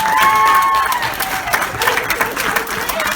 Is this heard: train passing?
no